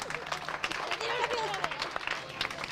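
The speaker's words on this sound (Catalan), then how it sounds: "Molt bé, un aplaudiment" An audience claps at a Catalan folk-tale storytelling performance, with scattered clapping running alongside voices and crowd noise.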